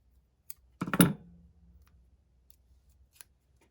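Scissors trim excess paper in a planner: a quick cluster of crisp snips near the start, followed by a few faint clicks, close and quiet with no talk.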